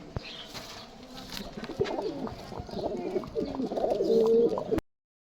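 Pigeons coo in low, throaty, repeated murmurs that grow louder toward the end, with a few sharp flutters and rustles nearby.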